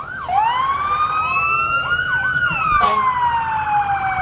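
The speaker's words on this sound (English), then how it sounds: "And cutting you off with loud sirens." A fire department ladder truck in a 2018 Frontier Days parade sounds its siren, a loud rising and falling wail with rapid yelping sweeps, heard nearby over a steady outdoor background.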